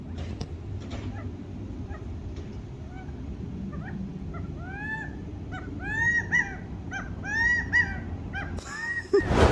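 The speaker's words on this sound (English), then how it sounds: "literally have a family of a bunch of weird ass birds" A family of birds perched on an outside wall gives repeated chirping, whistled calls, sparse at first, then clustering into quick bursts over a steady low background rumble.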